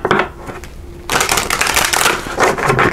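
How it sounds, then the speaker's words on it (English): Tarot cards shuffled by hand in broadband riffling bursts, a quieter stretch of soft card handling and then a louder sustained shuffle, close and alone with no talk. "Let's give it one more shuffle here."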